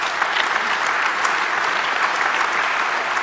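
Steady, full audience applause in a conference hall at a talk on EU data retention, even and continuous from many hands with no speech over it.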